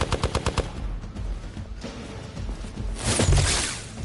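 Gunshots in the video game Marvel's Midnight Suns: a quick string of sharp, evenly spaced automatic shots up front, followed by a softer rush and a loud whooshing crash near the end.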